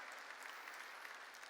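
A church congregation claps together during a sermon, giving a dense, even patter of many hands, fairly faint and distant, steady throughout with no talk over it.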